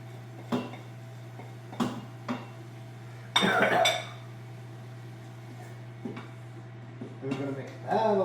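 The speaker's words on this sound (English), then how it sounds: "And we're going to mix that all together." A spoon stirring garlic, spices and ground meat in an Instant Pot, with a few sharp scrapes and clinks against the metal insert spaced out over several seconds, one louder clattering cluster in the middle, under a steady hum.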